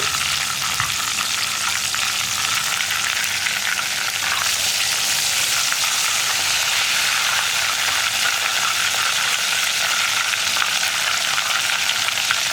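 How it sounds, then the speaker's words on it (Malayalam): Chicken pieces frying in hot oil for a chicken burger, a loud continuous crackling sizzle close by with occasional stirring and no talk. "ഇതുപോലെ നമുക്ക് ചിക്കൻ പീസുകൾ മുഴുവൻ ഫ്രൈ ചെയ്തെടുക്കാം."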